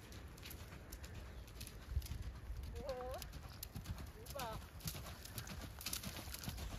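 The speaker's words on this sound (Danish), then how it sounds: "så der vælger jeg så også sætte ham i et galop" Horse cantering in a bitless dressage session, soft rhythmic hoofbeats faint under steady ambient noise, with a couple of brief bird calls in the middle.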